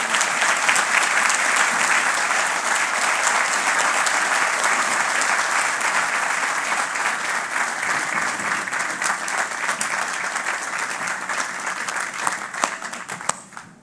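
Sustained applause from the audience at a Department of Corrections 50th anniversary ceremony, a steady wash of clapping hands that fills the room and slowly tapers off at the end.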